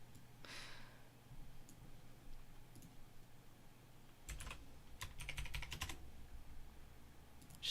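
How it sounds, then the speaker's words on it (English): Quiet typing on a computer keyboard gives bursts of quick, close key clicks with pauses between them, soft and sparse at first, then denser toward the end. "Just typing the ticker and then sending the chart."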